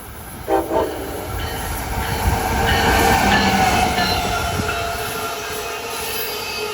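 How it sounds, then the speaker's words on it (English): An Amtrak train bound for Philadelphia and Washington, led by an ACS-64 electric locomotive, rolls past a North Philadelphia station, its steady rumble and rail noise building to a loud peak midway and then slowly fading. "approaching is a Philadelphia and Washington bound Amtrak train, an ACS 64 leading"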